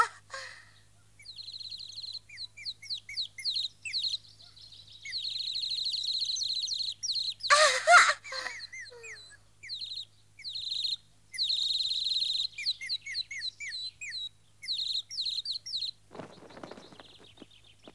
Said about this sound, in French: mon oiseau préféré, il est en train de chanter